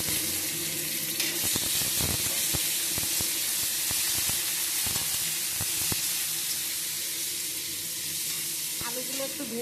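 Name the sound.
potatoes frying in pan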